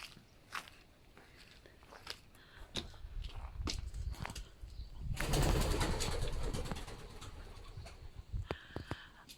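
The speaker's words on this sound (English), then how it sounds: "And that was actually a pigeon, and it frightened the heart out of me" A pigeon in a church graveyard makes soft pecking and scuffing sounds, then bursts into loud, close wingbeats lasting a couple of seconds before settling, with scattered light taps and rustles around it.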